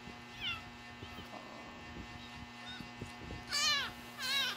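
An abandoned kitten mews in thin, high rising calls while being fed, a few short cries early and two louder, clearer meows near the end, with soft handling noise and background hum.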